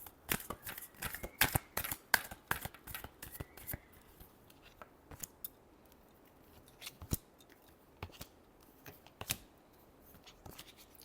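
Tarot cards being shuffled for a Taurus reading, a run of crisp papery riffles and snaps, dense at first and then sparser and quieter, close up with no talking.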